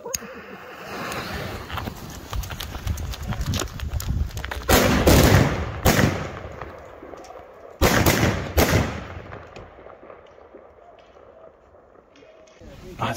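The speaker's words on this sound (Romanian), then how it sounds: "Azi dăm și o floare din aceste petarde." Firecrackers and Polish-style polenböller going off at a New Year's Eve celebration, heard as a series of loud, sharp blasts with big bursts around the middle and echoing crackle, mixed with crowd noise and talk.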